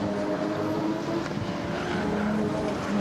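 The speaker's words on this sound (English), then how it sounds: "To Cameron Jones, awesome sounding motor vehicle." A turbocharged triple-rotary race car engine roars loud and continuously at a motorsport race meeting, with a high, buzzing rasp that holds steady for the whole stretch and no talk.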